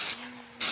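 A Shark Genius steam mop releasing a short burst of steam onto a hard floor: a soft, close hiss that lasts about half a second between louder bursts of noise, with no talking.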